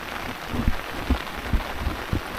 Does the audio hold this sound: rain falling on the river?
yes